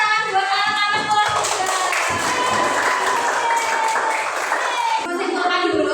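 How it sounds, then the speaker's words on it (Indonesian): A classroom of schoolchildren claps together in a dense burst of applause lasting several seconds, with young voices mixed in. "Tepuk tangan buat anak-anak kelas"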